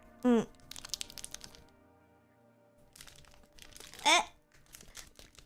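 Crinkling and tearing of plastic Digimon trading card pack packaging, with two sharp ripping bursts separated by quieter rustling and handling noises, close to the microphone.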